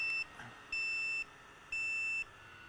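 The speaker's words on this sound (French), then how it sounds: "Donc, j'arrête le système d'alarme." Alarm on a powered air-purifying respirator gives three steady electronic beeps, each about half a second long and evenly spaced, in a quiet room with no talking.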